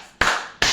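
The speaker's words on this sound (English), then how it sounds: "I beg, clap for me." Two sharp, separate hand claps from a small audience at a sermon-style gathering, close and crisp with a short pause between them, no talking over them.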